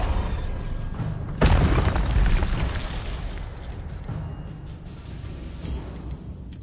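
A Reductor curse explosion in Hogwarts Legacy, one deep booming blast that bursts out and then rumbles away over a few seconds, followed by a brief magical shimmer.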